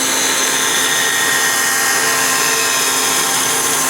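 A bandsaw hums loudly and steadily as it cuts curves through a wooden workpiece, a constant whine with no talking.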